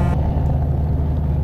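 A modded truck engine in Euro Truck Simulator 2 gives a steady, loud low rumble, close and continuous, after a brief higher whine at the start.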